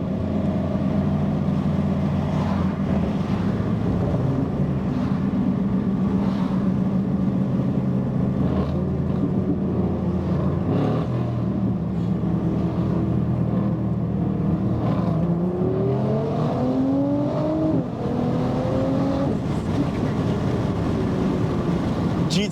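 A Nissan GT-R engine drones loudly under load while racing an AMG on a road, then climbs through rising, upshifting revs as it accelerates hard.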